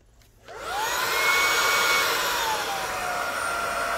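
A Bissell Iconpet Pro cordless vacuum cleaner starts after a short quiet moment, its motor whining up to speed and then settling into a loud, steady high-pitched hum with no talking.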